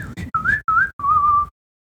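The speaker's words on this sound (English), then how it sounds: "we hit that fun little whistling section around 2:33" Whistled melody from a song, a bright tune in four phrases, three short rising notes and then one long held note, loud and up front over a low backing.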